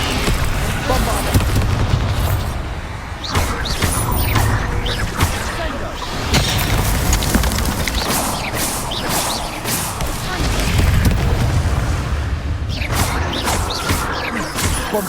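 Repeated Bombarda blast spells in Hogwarts Legacy boom and crash over a long battle, with rushing whooshes and debris impacts arriving in heavy waves, and a voice speaking between the blasts.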